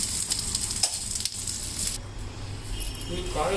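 Asafoetida sizzling in hot oil in a pan while a spicy-sour velaga fruit chutney is prepared, a steady close crackling fry with a few small metallic clinks and a voice speaking over it.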